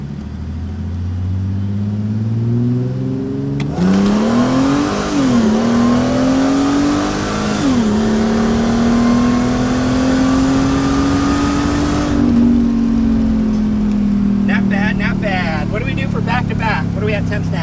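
A performance car with a FI intercooler setup, in first gear with ESP off, revs hard on a pull: a loud engine note rises and holds steady, then falls away, with a voice heard over it.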